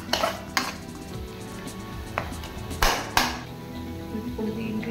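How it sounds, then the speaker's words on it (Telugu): Eggs cracked into a pan of spring onion fry for an egg curry: a few sharp taps and clinks against the pan scattered over about five seconds, with soft kitchen clatter and faint background hum. "ఇప్పుడు దీంట్లోనే ఎగ్గులు కొట్టుకుంటున్నాం."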